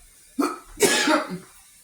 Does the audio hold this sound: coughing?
yes